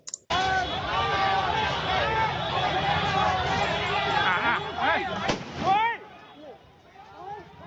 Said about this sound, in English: เจ้าหน้าที่ตำรวจมีการใช้กระสุนยางนะตอนนี้ครับ